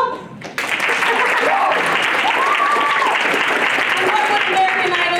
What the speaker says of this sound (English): Applause, people!